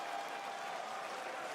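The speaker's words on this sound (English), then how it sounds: "Do you hear the people in the crowd?" Dense, steady crowd applause at Summer Game Fest, a constant wash of clapping heard from a distance with no break.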